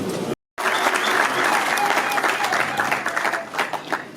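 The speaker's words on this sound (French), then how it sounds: "vos applaudissements une fois encore pour le pasteur Nicolas Kalangalino" Audience applause at a Congolese political gathering, a dense sustained clapping that fills the room, briefly cut by a short gap near the start before resuming steadily and loud to the end.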